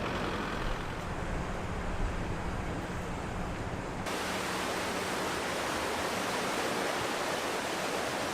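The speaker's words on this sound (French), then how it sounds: "nous sommes arrivés au niveau de la cascade qui est là, donc la fameuse cascade, une quarantaine de mètres de dénivelé." Ezaro waterfall in Galicia, about 40 metres high, roaring as a steady broadband rush of falling water, loud and constant throughout with no pauses.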